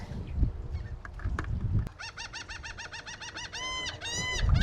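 A goose-like bird honks near a coastal crabbing spot where a handline is being used, giving a quick run of loud, close, nasal calls that grow more drawn out toward the end, over low outdoor rumble.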